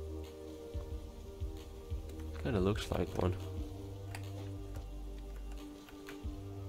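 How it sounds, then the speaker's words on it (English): Rain in the video game Rain World falls as a constant soft patter under low droning game sounds, and a voice briefly speaks over it near the middle. "Wait, it's raining?"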